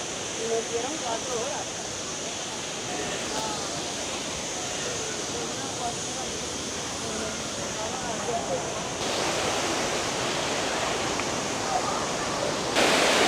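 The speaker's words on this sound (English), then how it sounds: "you can see the waterfall coming down there" Steady, broadband rushing of falling water, loud and continuous, from the Algar Waterfalls near Benidorm pouring nearby, with no clear voices over it.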